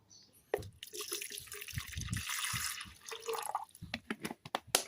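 Plain water poured into a glass: a steady splashing pour running for several seconds, close and fairly loud, ending in a few short drips and splashes.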